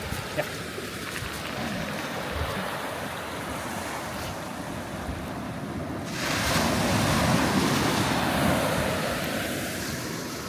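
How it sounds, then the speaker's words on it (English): Ocean waves break and wash onto a surf beach in Spain, a steady roaring surge that swells louder in the second half, with wind buffeting the microphone throughout. "the waves are like mental here"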